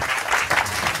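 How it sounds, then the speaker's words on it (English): An audience at an evening panel discussion on tech monopolies claps for a speaker, a short burst of steady, dense applause filling the room. "a round of applause."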